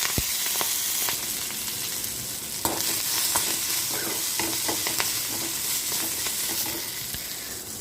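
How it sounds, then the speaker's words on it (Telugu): Chopped fenugreek leaves frying in a spoonful of oil in a small kadai, a loud, steady sizzle broken by sharp scraping and tapping of a ladle against the pan, no speech. "ఒక స్పూన్ ఆయిల్ వేసుకొని కట్ చేసి పెట్టుకున్న మెంతికూరని కొంచెం వేయించుకుందాం"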